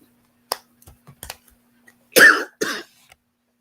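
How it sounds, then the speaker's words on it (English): A few isolated coughs ring out close and loud after some quiet clicks and rustles, the strongest one followed shortly by a second. "I got this doggone cough."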